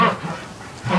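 Breeding ducks call out at night in the cold, two short nasal honks a moment apart, close and fairly clear against a quiet background.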